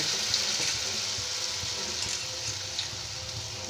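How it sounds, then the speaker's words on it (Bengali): Quiet, steady sizzling of stuffed pointed gourd frying in hot oil, a soft continuous crackle with occasional small pops and no talking. "এইভাবে সবগুলোকে আমি দিয়ে ভেজে নিচ্ছি"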